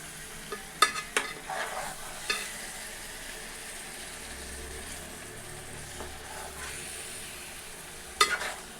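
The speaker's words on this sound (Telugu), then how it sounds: "ఇప్పుడు ఒకసారి అయితే స్లోగా కలుపుకున్నామండి" Sea fish curry being stirred slowly in a pan, with soft scraping strokes and gentle sizzling in short bursts, heard close up with no talk.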